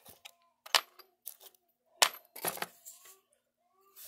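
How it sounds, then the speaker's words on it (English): Metal bobbins from an 1869 Singer sewing machine set down one by one onto a hard surface, giving sharp scattered clinks and taps in an irregular rhythm, close and fairly quiet. "We're going to set those bobbins out"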